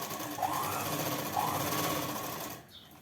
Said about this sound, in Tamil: இப்போ 1/2 இன்ச்சில் இப்படி ஓட்டுறோம்.